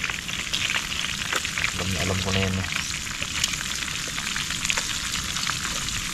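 Banggoy fish fries in hot oil over a steady flame, crackling and sizzling densely throughout while people talk nearby.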